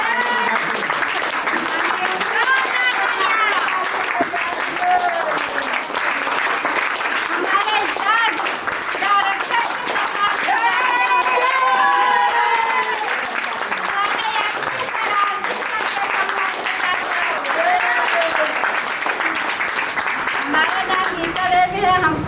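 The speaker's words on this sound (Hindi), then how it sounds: "हमारे मनोज सर के सम्मान में तालियां हो जाए।" Sustained, loud crowd applause honouring guests at a franchise opening ceremony in Ayodhya, a dense steady roar of many hands with cheering voices and talk mixed in throughout.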